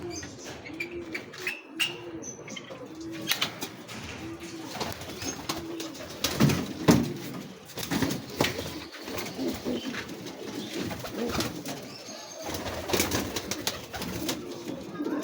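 Pigeons coo repeatedly in soft, rolling phrases, close by, mixed with occasional rustling, fluttering and clicking noises.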